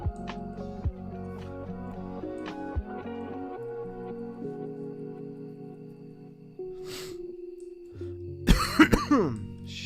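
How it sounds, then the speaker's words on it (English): A man with a lingering bad cough lets out a few sharp coughs and throat-clearing bursts near the end, over Minecraft game music and sounds. "I got kind of a bad cough still"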